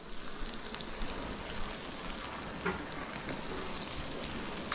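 Sicilian pizza topped with cupped, charred-edged pepperoni sizzling in a hot pan, a steady close crackle and hiss with scattered pops, heard alone.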